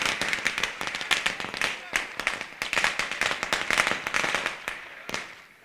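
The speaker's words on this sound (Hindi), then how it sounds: "फटाकों की आतिशबाजी के साथ" Firecrackers and fireworks set off in welcome at a 2019 local cricket tournament in Panvel, a rapid irregular string of sharp, loud cracks and pops crowding together and stopping near the end.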